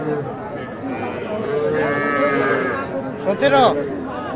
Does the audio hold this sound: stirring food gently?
no